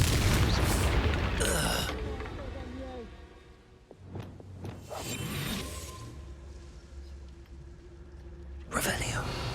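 A Confringo blasting spell explodes in Hogwarts Legacy, a deep booming blast with whooshing magic effects and sharp impacts, layered with in-game voices and a player speaking over the action.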